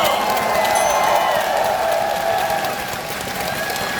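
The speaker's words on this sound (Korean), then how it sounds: "보문고등학교까지 뜨거운 박수를 한번 부탁드립니다." A crowd at a Democratic Party joint campaign rally in Daejeon applauds and cheers, a sustained dense roar of clapping with shouts that eases slightly near the end.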